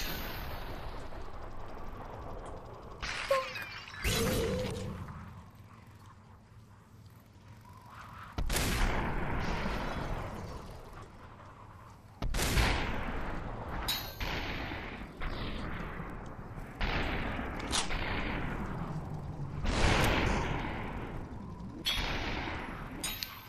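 Repeated gunshots ring out in the virtual-reality shooter game Superhot VR, sharp loud cracks fired in irregular bursts, some in quick succession, with no talking.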